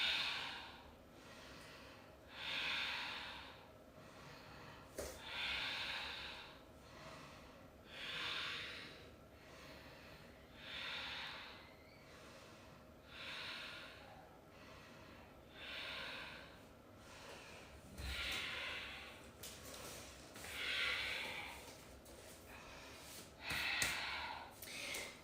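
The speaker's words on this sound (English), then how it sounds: "Deep breaths in" Slow, deep yoga breathing repeats in even cycles, each inhale and exhale a soft airy rush close to the microphone, about a dozen breaths over roughly 25 seconds, faint and unhurried with no talking.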